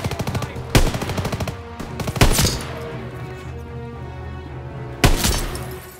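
Enemy MG machine gun in the Call of Duty WW2 video game, Death Factory level, firing loud sustained bursts, with three sharp heavy blasts punctuating a dense, continuous battlefield clatter.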